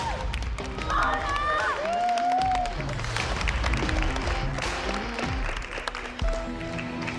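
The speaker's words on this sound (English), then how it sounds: "His wife Laura cheering him on." A crowd at a bodybuilding competition cheers and applauds loudly throughout, with shouts and whistles rising above the clapping and voices mixed in.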